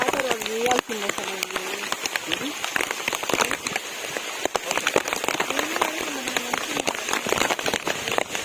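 Monsoon rain at Matheran hill station patters steadily on surfaces close by, with sharp drops throughout, while people talk over it.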